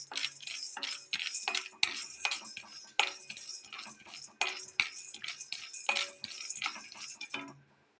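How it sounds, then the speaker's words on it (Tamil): Already-roasted peanuts are dry-roasted again in a pan, stirred with sharp, rapid metallic scrapes and clinks in an irregular rhythm, close and fairly quiet with no talk. "இப்போ வந்து நம்ம வேர்க்கடலை வறுத்துடலாங்க"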